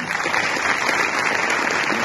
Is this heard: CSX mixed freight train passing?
no